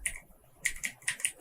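Quick bursts of keystrokes on a computer keyboard, close and fairly quiet, a short cluster of taps, a pause, then more irregular clicks with no voice.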